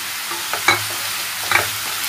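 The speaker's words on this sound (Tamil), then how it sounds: "கருவேப்பிலையும் சேர்த்துட்டு மிக்ஸ் பண்ணி விட்டுருங்க" Curry leaves stirred into onions frying in a pan for chow chow poriyal, a close steady sizzle broken by two brief scraping stirs of the spoon.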